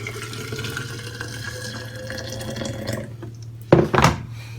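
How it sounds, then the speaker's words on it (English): Three model car bodies and chassis stirred in a jar of caustic soda paint stripper, a low sloshing liquid swirl with a hum beneath, ending in two short knocks against the container. "Give it a bit of stir."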